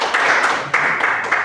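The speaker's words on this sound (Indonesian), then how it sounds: "tepuk tangan untuk Yohanes." Brief bursts of applause from a seated audience at an Indonesian university teaching assessment session, with several quick waves of clapping in a short span.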